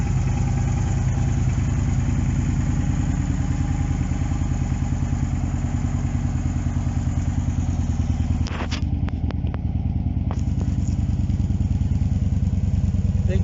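A Victory Vision Tour motorcycle fitted with a Stage 1 exhaust idles steadily with a low, even burble, close and moderately loud, with a few brief clicks near the end.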